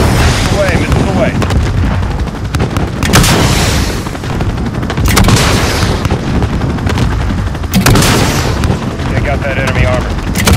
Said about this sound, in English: Away, missile away.